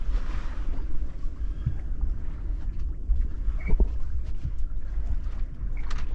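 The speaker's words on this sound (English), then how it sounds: "now we're sailing along with the mainsail" A sailboat runs under its mainsail, with steady wind rushing over the microphone and water swishing along the hull, plus a few faint knocks and creaks from the rigging.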